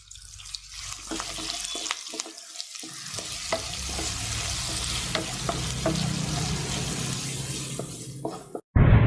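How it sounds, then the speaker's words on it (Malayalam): Chopped shallots sauté in hot oil left from frying prawns, a close crackling sizzle with repeated spoon scrapes and taps, ending in a sudden loud knock. "ചെമ്മീൻ ഫ്രൈ ചെയ്ത എണ്ണയിലേക്ക് 20-25 കൊച്ചുള്ളി നമ്മൾ ചെറുതായിട്ട് അരിഞ്ഞത് നമുക്ക് നന്നായിട്ടൊന്ന് വഴറ്റിയെടുക്കാം."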